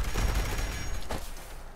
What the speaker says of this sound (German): Das war eine Explosion des Legendären.